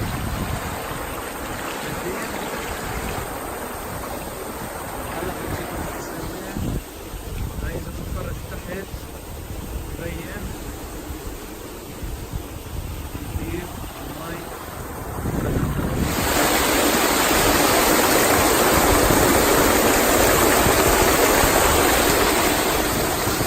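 Water flowing down through Wadi Qelt in Palestine, a steady broadband rush that grows louder and fuller in the second half, mixed with wind noise on the microphone.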